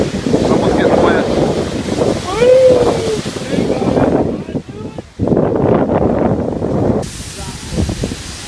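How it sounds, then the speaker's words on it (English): Big ocean waves breaking and washing up at Morro Strand beach, repeated roaring surges with heavy wind buffeting the microphone, loud and near, with people talking over them. "I love these big old waves."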